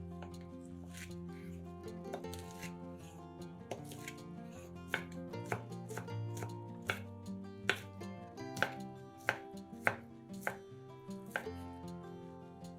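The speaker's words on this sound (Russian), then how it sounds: "150 грамм колбасы нарезаем кубиками" Knife cutting sausage into cubes on a cutting board, a series of crisp, close taps with an uneven rhythm that become sharper and more regular, with soft background music underneath.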